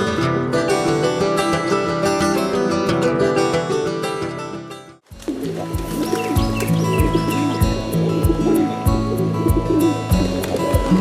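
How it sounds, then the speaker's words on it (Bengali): Pigeons coo and call at Kaptan Bazar pigeon market in Dhaka, soft repeated throaty coos with chirps over a busy market background, the texture shifting midway. "কবুতরের বাকবাকুম ডাকেও আছে কেমন জাদুময়ী মুগ্ধতা।"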